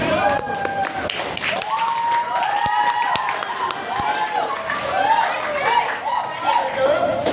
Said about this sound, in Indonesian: Baik, kita berusaha beri tepuk tangan untuk kelompok 1.